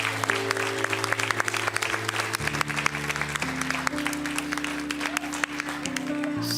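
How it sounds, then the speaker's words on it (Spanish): A church congregation applauding during a Spanish-language worship service, with loud continuous clapping over sustained organ or keyboard chords that shift pitch partway through. "Denle un fuerte aplauso al Señor en esta mañana"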